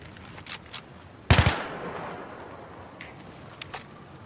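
A short, sharp burst of gunfire from a gun in Battlefield 3, one loud cluster of rapid shots standing out above a quiet game background, with a few faint clicks and distant hits after it.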